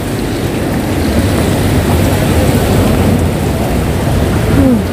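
Heavy rain falls outdoors on a Hong Kong street, a dense, constant hiss with a low rumble underneath, loud and unbroken throughout.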